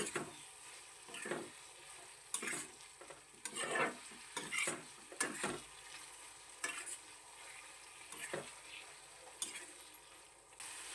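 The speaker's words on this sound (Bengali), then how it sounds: "এবার মশলার সাথে ভালোভাবে চিকেনটাকে আমরা কষিয়ে নেব" Boneless chicken pieces sauté with spices in a pan, a soft continuous sizzle punctuated by repeated scraping and clattering strokes of a spatula stirring at an uneven rhythm, fairly quiet and close.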